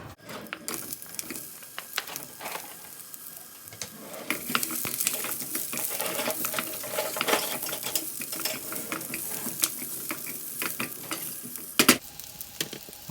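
Onions hit warm peanut oil in a pan and sizzle steadily, with stirring clinks and scrapes, and a louder clatter near the end; close up with no talking.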